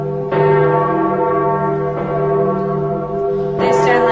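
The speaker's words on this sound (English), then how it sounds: "The bell of St. Marcus." Church bell of St. Marcus tolling in a stage performance, loud, rich and sustained, with a fresh strike near the start, another around two seconds in and a third near the end, heard alone.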